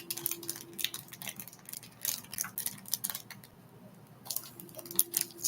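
Crinkling and scraping bursts of a stiff plastic package being pulled and twisted by hand in a failed attempt to tear it open, irregular and close, with short pauses between efforts.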